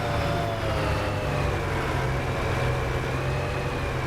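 A semi-truck engine in Farming Simulator 25 drones steadily at a low idle, a deep continuous rumble with a faint whine above it, no voices.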